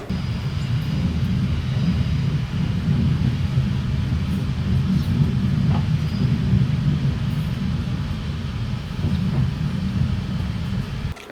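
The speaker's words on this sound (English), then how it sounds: "came the boring journey of getting on the train for 2 hours" Continuous low rumble and rushing noise inside a moving train on a two-hour journey home from London, steady and droning throughout with no talking.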